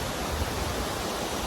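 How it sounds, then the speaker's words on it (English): Steady, loud broadband roar of a waterfall, heard from a bridge on a mountain trail along the Pacific Crest Trail near Mt. Whitney, continuous with no voices. "You can see the waterfall."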